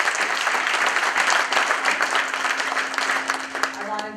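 Audience at a meeting applauds a panel and team with a dense burst of clapping that thins toward the end as a low hum and a few voices come through.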